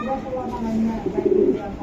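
Racing pigeon giving a short, low throaty coo up close, lasting under two seconds with faint background murmur.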